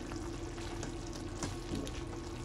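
Tomato and onion masala frying in hot oil for aloo sabzi, a steady soft sizzle and crackle that holds at an even, fairly quiet level throughout.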